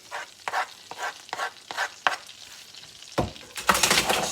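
Garlic frying in butter in a pan, heard as a run of regular short stirring scrapes, about eight evenly spaced strokes, then a louder burst of sizzle at the end.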